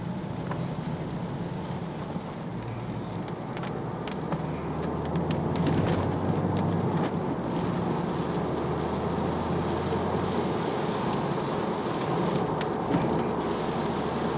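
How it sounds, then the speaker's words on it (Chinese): Rain falling around a car on the road, a steady broad hiss of drops with a low engine and road rumble beneath, continuous and fairly loud, no voices. "看这北部下雨。"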